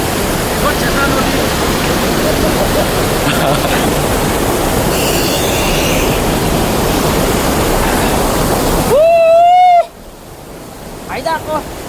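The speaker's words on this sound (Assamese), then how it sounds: "এইফালে পানী কিমান পৰি আছে" A local waterfall on the Chencha river roars as a loud, steady wash of water for most of the stretch, then cuts off abruptly, leaving quieter background with a few brief tones.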